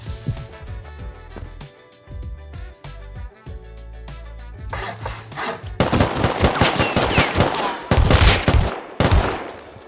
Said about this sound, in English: I see my neighbors and I hold off shooting, but they shoot at me instead.